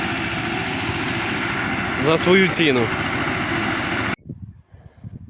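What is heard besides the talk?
T-25 tractor engine running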